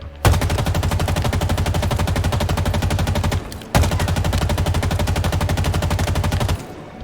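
An assault rifle in Halo Infinite fires in two long sustained bursts of rapid, evenly spaced shots, loud and close, with a brief pause between them and no voices.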